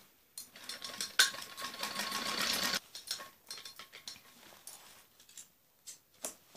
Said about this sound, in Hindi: दोनों साइड में हम ऐसे ही सिलाई लगा लेते हैं जैसे हमने अपने फिटिंग का निशान लगाया है।